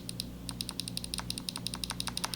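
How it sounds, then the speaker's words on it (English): Rapid, crisp clicks repeat in an uneven stream, a Classic Army ECS airsoft gun's trigger switch tapped over and over, close up over a steady low hum. "Do you guys hear that little switch? That little like almost mouse click?"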